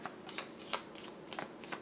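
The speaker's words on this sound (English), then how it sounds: "And we'll shuffle again." Deck of game cards for Marvel Legendary being shuffled close by, a soft, steady riffling rustle with brief flicks, alone without talk.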